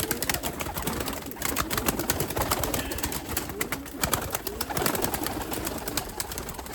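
Heavily feathered Limoni breeding pigeons coo close by in a steady, overlapping chorus of soft throaty calls that runs without pause, with no voices.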